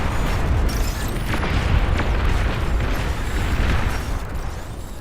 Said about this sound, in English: Plasma cannons are targeting units.